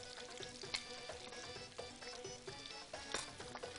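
Onions sizzle in hot ghee seasoned with salt and black pepper, a steady quiet frying crackle with small pops and scraping stirs throughout, no speech.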